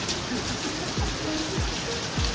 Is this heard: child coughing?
no